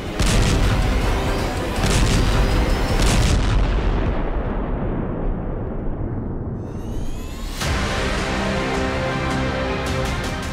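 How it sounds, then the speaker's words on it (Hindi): Loud, heavy blasts from Israeli strikes in Lebanon rumble one after another, then a falling whistle fades before another burst of booming and crackling. "धमाके की गूंज से पूरा इलाका दहल उठा।"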